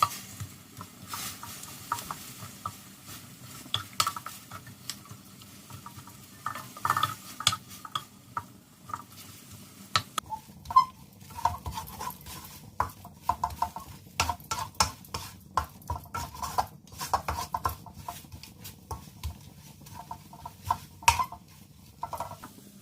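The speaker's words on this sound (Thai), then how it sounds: "นำพริกแกงที่เตรียมไว้ลงมาผัดกับน้ำเปล่าค่ะ ผัดไปเรื่อยๆก่อนนะคะ" Curry paste of wild curry paste, red curry paste and a little shrimp paste is stir-fried with water in a pan for a featherback fish curry, with quiet scraping and tapping from the spatula repeating irregularly under a faint simmer.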